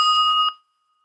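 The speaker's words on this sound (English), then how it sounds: "you will hear the bell momentarily." A meditation bell rung at a temple gives a bright, sustained metallic tone with steady overtones, struck once and ringing loudly for about half a second before cutting off into silence.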